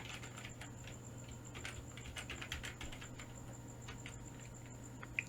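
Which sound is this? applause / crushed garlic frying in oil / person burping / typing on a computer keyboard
typing on a computer keyboard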